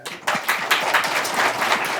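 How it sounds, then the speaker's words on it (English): A crowd at a keynote panel session breaks into applause, a dense wash of many hands clapping that swells quickly and holds steady at a fairly loud level. "round of applause for that, please"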